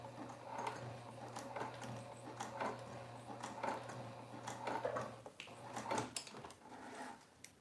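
A sewing machine stitches through four layers of fabric straps, giving a steady mechanical whir with a low hum and a run of evenly spaced clacking thumps, close and fairly quiet, with no talking.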